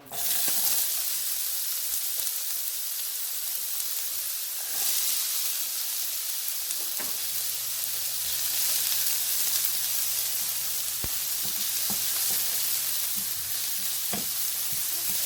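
Diced onion sizzles in hot oil in a pan for Mexican chiles rellenos, a loud continuous hiss that holds steady throughout, with occasional soft clicks and a faint low hum joining partway through.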